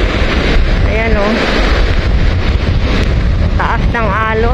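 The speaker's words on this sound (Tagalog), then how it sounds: "Malakas pa rin yung hangin." Strong monsoon wind at a beach buffets the microphone in a constant roar with high surf in the background, while a person speaks over it.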